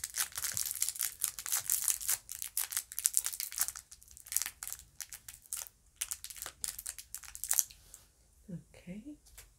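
Candy wrappers crinkle and rustle close up as Valentine's Day goodie bags are filled, a dense, continuous crackling of plastic in quick irregular bursts, with a brief soft voice near the end.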